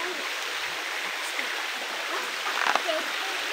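River water rushes in a steady, close broadband wash on a farm, with a few faint splashes and no speech.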